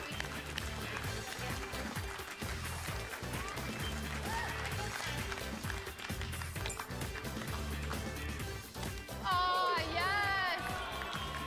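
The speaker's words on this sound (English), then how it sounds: "give her a big round of applause" Studio audience applause and cheering on the Let's Make a Deal game show, a loud continuous crowd roar with music and a host's voice over it, ending in whooping.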